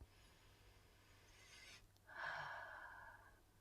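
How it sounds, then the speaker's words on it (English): A person breathes slowly and deliberately, a soft inhale followed by a longer, louder exhale, close and quiet with no talking. "I just want to take a few breaths with you guys"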